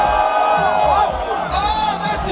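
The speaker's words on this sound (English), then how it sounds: "oh, that's a huge cheer!" Crowd at a snowboard or ski event in Avoriaz cheering and whooping loudly, with overlapping high shouts and yells forming a dense, continuous roar throughout.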